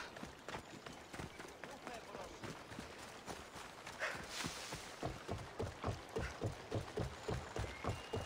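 Horse hooves clip-clopping at a steady running pace in Assassin's Creed Odyssey, a regular rhythmic drumming of hoofbeats that continues throughout, loud and close.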